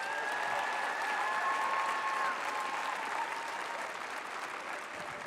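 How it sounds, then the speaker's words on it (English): A crowd claps steadily at the opening ceremony of a 2016 Wisconsin regional competition, with sustained applause that holds throughout and tapers slightly near the end. "So let's give them all a round of applause."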